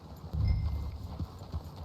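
Horse hooves clip-clopping in Red Dead Redemption 2 in a steady, lively rhythm at close range, with a low rumble underneath and no voices.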